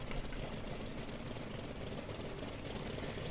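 F4U-1A Corsair radial engine catching at startup in Flight Simulator X, a dense, steady rumbling roar that fills the clip.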